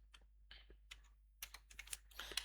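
Keys on a computer keyboard click in a quick, uneven run while code is typed, starting sparse and then speeding into a denser burst, close and quiet.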